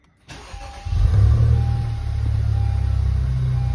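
A Honda Civic FK8 Type R with an upgraded turbo, around 560 hp, cranks and fires up close by, flares briefly, then settles into a loud, steady, throbbing idle with no voices.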